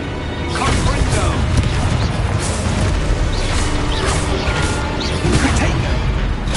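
In the Hogwarts Legacy video game, a Confringo spell explodes with a loud, sustained booming crash and rumbling debris that fill the whole stretch, along with whooshing spell effects.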